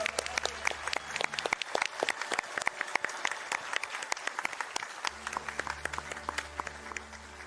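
Marathon audience applauds the GDQ staff at a speedrun event, steady dense clapping from a large crowd filling the whole stretch, loud and sustained with scattered sharper claps.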